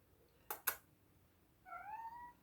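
Two quick clicks, then a cat gives one soft, drawn-out meow nearby in a quiet room.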